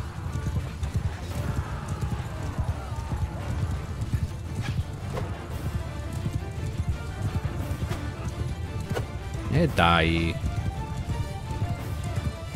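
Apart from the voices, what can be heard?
horses galloping and neighing in video game Mount & Blade Bannerlord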